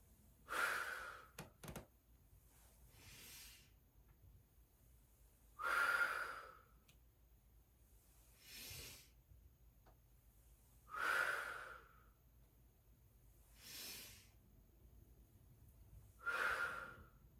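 Slow, steady breathing during a gentle Pilates ball exercise, with five or six long, audible breaths evenly spaced a few seconds apart, close by and fairly soft against a quiet room.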